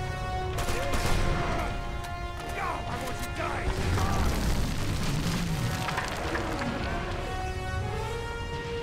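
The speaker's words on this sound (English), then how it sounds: "So now he's throwing out the grenades." Grenades go off in the Uncharted 2: Among Thieves video game, a string of loud crashing blasts and debris rattles through a dense battle mix with a steady musical score underneath.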